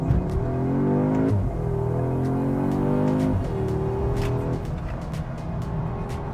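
An Audi S3 accelerates hard from a standstill without launch control through several gears, the engine note climbing then dropping at each shift, loud and close throughout.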